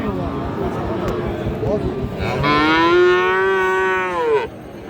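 A cow lets out a long, loud, close moo amid a noisy crowd at a cattle market, with people talking before it.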